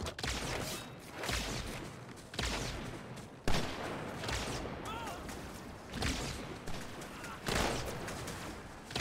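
Gunshots in Halo 2 Anniversary ring out as a series of separate sharp bursts spaced a second or two apart, fairly close, amid background game noise.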